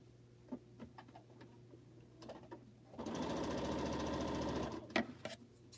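A sewing machine stitches a quilt block in one steady, rapid mechanical run of about two seconds, preceded and followed by quieter handling noises close by.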